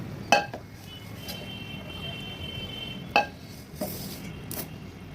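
Homemade ghee being strained at home, with a few sharp clinks of a metal strainer and utensils against a pot standing out over a quiet background hiss.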